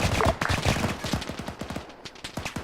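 Rapid gunfire in the military video game Arma, a dense run of sharp shots firing close and loud in quick bursts that thin out near the end.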